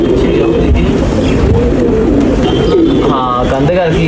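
Kept pigeons coo in a loft or yard, a throaty warbling rumble that is loud and close and runs continuously, mixed with people talking nearby.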